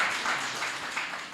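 A church congregation claps together, a soft, fairly distant patter of many hands in uneven rhythm, continuous and faint with no voices over it.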